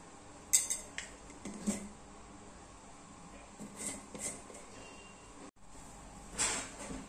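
Red chili powder, turmeric and salt being stirred in a bowl for taro root tikki, giving soft intermittent scraping and clinks of a spoon against the dish, fairly quiet with a few sharper taps.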